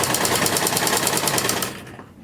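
A sewing machine runs fast and steady, stitching the folded hem of a kurti with a dense, continuous rapid rattle that stops abruptly near the end.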